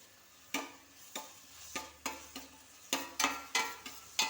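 Stirring in hot ghee while making pineapple payasam: a spoon strikes and scrapes the pan about a dozen times in a loose rhythm over a faint sizzle, close by and with no voices.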